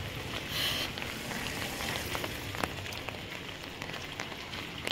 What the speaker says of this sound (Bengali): রাস্তায় প্রচণ্ড বৃষ্টি, সকাল থেকে বৃষ্টি হচ্ছে।